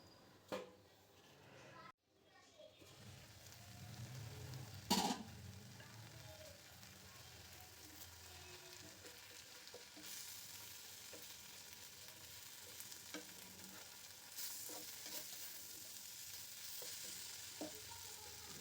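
Beto shak greens frying in a pan, a steady broadband sizzle running throughout with a sharp clatter partway through and scattered small pops and stirring knocks.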